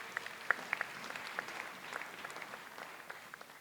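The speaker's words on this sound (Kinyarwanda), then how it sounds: "Dukomere Imana yacu amashyi." A church congregation claps, with scattered sharp claps standing out over a faint, thin patter of applause that slowly fades, heard from a distance in a large room.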